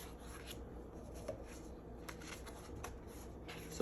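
Scissors cutting apart 4x6 paper cards, soft close rasping snips and paper rustles repeating quietly in a loose rhythm over a faint background.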